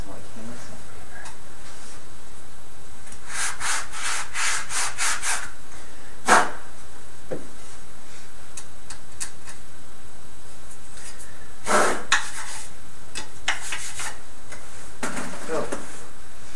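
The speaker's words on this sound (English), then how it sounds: "This is such a good sandpaper." Hand sanding with sandpaper on wood, heard as bursts of short, close rasping strokes in quick runs separated by pauses.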